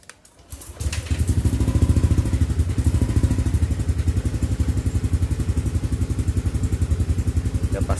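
A Yamaha Aerox scooter at night is cranked by its starter and catches after a brief whir, then settles into a steady, rhythmic putter of a small single-cylinder engine idling close by.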